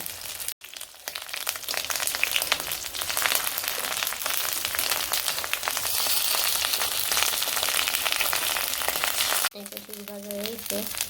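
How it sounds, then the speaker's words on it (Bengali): Water lily fritters (shapla bora) fry in hot oil, a close, continuous crackling sizzle that runs for several seconds before cutting off abruptly, leaving a brief voice and faint background at the end. "শাপলার বড় ভাজবো গুড়ির সাথে সব মিশিয়ে নিছে"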